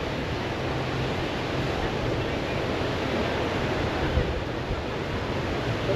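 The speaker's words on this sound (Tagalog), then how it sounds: "Ay, dagat tayo." Sea waves wash onto a white sand beach along the Bolinao coast, a steady, loud surf roar mixed with wind buffeting the microphone, no clear breaks between swells.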